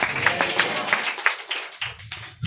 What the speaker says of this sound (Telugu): చప్పట్లు కొట్టి ప్రభును ఘనపరచుదుగాక